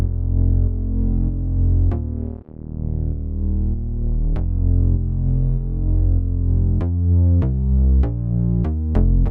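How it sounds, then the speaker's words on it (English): Synthwave synth bassline with a sidechain-style LFO that ducks and swells in a steady pulsing rhythm, harmonically rich, loud and close, playing alone. "So the bassline sounds like this."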